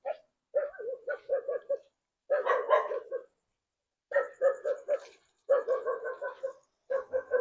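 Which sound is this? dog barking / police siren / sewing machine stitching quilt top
dog barking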